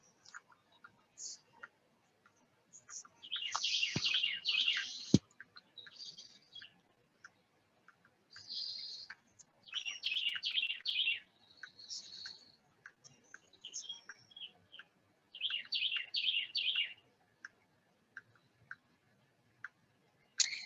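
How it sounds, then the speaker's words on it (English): Small birds sing and chirp outdoors in loud, bright bursts of high twittering phrases, several clustered runs separated by short pauses, with occasional faint ticks between. "but there are some birdies that are so loud"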